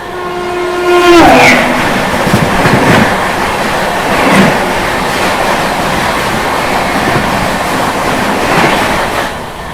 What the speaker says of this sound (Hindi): तो अभी बगल से ये क्रॉस हुई रांची गरीब रथ एक्सप्रेस